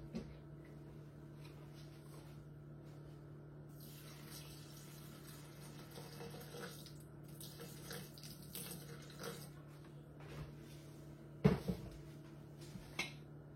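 About 100 g of lukewarm water is poured into a Thermomix TM6 bowl, a faint trickle under a steady low appliance hum, followed by a few louder knocks.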